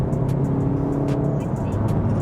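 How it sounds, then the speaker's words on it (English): A VW Golf GTD with a DSG gearbox pulls away hard from a standstill, its engine roaring loud and steady with a spinning tyre scrabbling underneath, the dense drone filling the whole stretch. "Bit of wheel spin."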